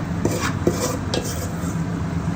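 Wheat flour and rice flour are stirred together in a bowl with a spoon, giving light scraping and a few sharp clinks of metal against the bowl, close up with no talk.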